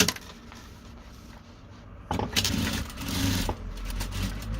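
Domestic sewing machine stitching fabric squares together for a patchwork bag, a steady mechanical whir that picks up louder and busier after a quiet start, running continuously with no talk.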